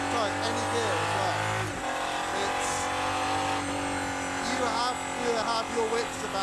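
An Aston Martin Valkyrie engine accelerates hard on a wet, foggy mountain road, its high-pitched howl rising through rapid gear changes and lighting up the tyres, loud and close, with a voice talking over it.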